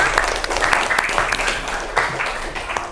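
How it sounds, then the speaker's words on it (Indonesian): A classroom of students breaks into dense, sustained clapping after a lesson on light, loud and close, lasting a few seconds with a few voices mixed in. "tepuk tangan untuk semuanya"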